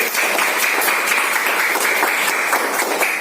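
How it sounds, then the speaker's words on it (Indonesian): Students in a classroom lesson clap together in a loud, continuous burst of close applause that holds steady at full volume throughout, with no talking over it. "Tepuk tangan kita semua dulu."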